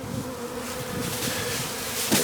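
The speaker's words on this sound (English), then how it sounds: "Now the bees, the hive that didn't have any bees coming out the bottom, now have bees coming out the bottom" Honeybees swarm and buzz at the entrance of a hive in a university apiary, a dense, loud, continuous drone of many wings close by, with no voices.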